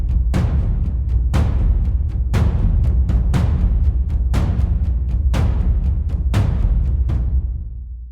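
A programmed percussion pattern with louder accented hits at the start of each measure, a steady driving rhythm of punchy strikes over a low rumbling tone that fades out at the end.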